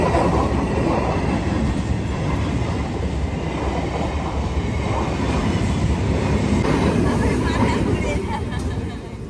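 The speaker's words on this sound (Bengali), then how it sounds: "এই তো ট্রেন বাবাজি যাবে, যার কারণে আমরা দাঁড়িয়ে পড়েছি" A train rumbles steadily past a railway level crossing, loud and close, with continuous wheel clatter and rolling noise for several seconds, with voices faintly mixed beneath.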